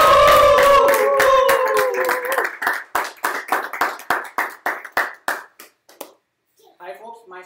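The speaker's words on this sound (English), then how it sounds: "Let's give a big round of applause" Applause from a small group at a live-streamed session, starting under a speaking voice, then thinning to a handful of distinct claps that slow and stop, followed by brief talk.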